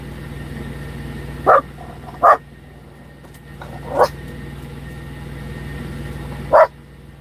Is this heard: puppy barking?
yes